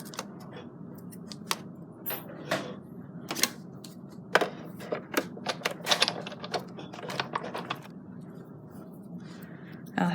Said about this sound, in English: So I'm going to die cut those out of Cherry Pop cardstock again.